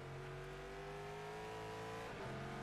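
A Corvette C7 GTE race car engine drones at steady high revs on the straight at Sebring, with a brief dip and shift in pitch near the end as it keeps pushing on.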